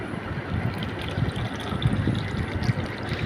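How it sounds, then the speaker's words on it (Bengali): Cow's milk trickling into a yogurt cup for homemade curd, a soft, steady liquid pour with light gurgles, close and quiet, with no talking. "যেই কাপটা আমি কিনে নিয়ে আসছিলাম দইয়ের, এই কাপটার ভিতরে কিছুটা ঢেলে দিলাম।"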